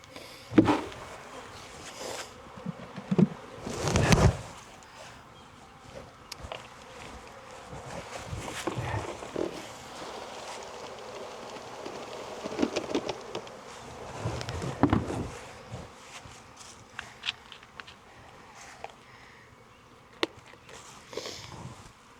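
Soft, steady buzzing of honey bees around an open hive in February in Jacksonville, Florida, with handling noises, rustles and occasional louder bumps close by.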